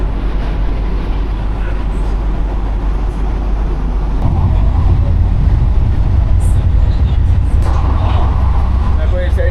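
Aboard an air-conditioned local train on the Ranaghat–Sealdah line, a low rumble swells and stays heavier as another train passes alongside, with a voice faintly present over the noise.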